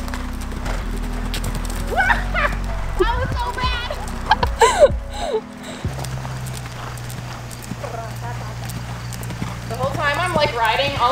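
A polo pony's hooves clip-clop in a steady rhythmic gait while being ridden, with a rider's voice talking over the hoofbeats and low mechanical hum in the background.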